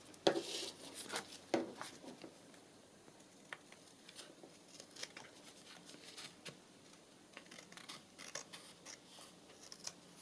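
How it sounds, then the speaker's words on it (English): Scissors trimming paper for pocket signature inserts in a craft session, with a quick burst of crisp snips at the start followed by scattered lighter cuts and rustling, close and fairly quiet. "I think we'll go with the scissors."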